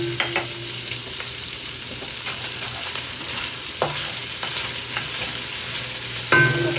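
Beef chunks sizzle and fry as they brown in a pot for stew, with steady crackling under intermittent scraping stirs from a utensil, close and moderately loud, no talk.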